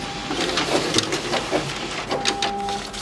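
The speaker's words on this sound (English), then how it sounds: "put the document face up in the document feeder and hit start" An office printer-scanner draws a document through its automatic document feeder, a steady mechanical whir with rhythmic clicks and brief tonal motor whines, heard close and alone.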